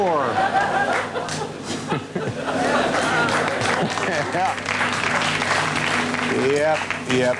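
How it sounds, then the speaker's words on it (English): Studio audience at a late-night talk show breaks into applause mixed with chuckles and laughter, a dense sustained crowd sound with a host's voice speaking over it. "people will applaud even when no joke has been made"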